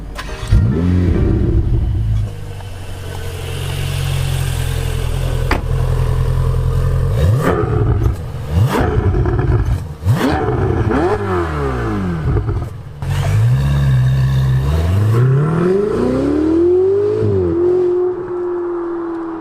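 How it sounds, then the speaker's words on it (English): A Ferrari 488 GTB engine roars loud and close, holding a sustained drone before a series of sharp revs that swoop up and fall back, ending with a long rising pull. "this video is going to be my first impressions of the Ferrari 488 GTB"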